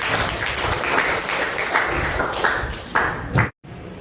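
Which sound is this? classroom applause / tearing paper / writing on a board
classroom applause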